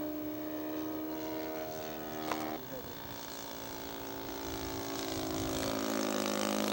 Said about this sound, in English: Nathan Henley on a flyby with his SE5